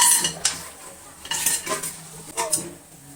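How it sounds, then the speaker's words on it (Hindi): Lentils (dal) being tipped into a metal cooking pot: scattered clinks, rattles and scraping of utensils against the pot, several irregular bursts at close range, with no talk. "तो फर्स्ट है ना दाल इसमें डाल लेंगे।"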